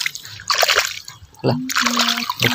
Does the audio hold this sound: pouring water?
yes